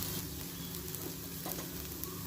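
Sesame oil sizzles steadily on a hot pan while a toor dal dosa cooks, a continuous close crackle with small pops and no voices.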